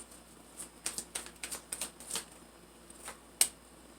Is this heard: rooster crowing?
no